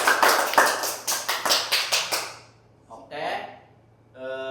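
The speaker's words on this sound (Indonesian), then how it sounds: "Tepuk tangan buat kalian semua." Students in a micro-teaching classroom lesson clap their hands in a quick burst of about eight sharp, close claps, then the room falls quiet before someone speaks.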